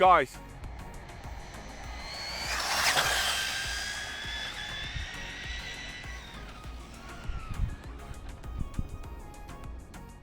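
A JJRC/SCY Q130-A brushless RC trophy truck speeds around a velodrome track, its motor whining up into a high rising and falling pitch sweep that fades out. Someone talks excitedly over it.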